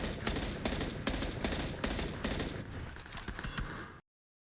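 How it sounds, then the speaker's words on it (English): M16 burst-fire rifle shooting in the video game PUBG, a dense, loud string of rapid gunshots that keeps going for about four seconds and then cuts off to silence. "here is the M16, which is also a burst fire weapon and shoots as fast as you can pull the trigger"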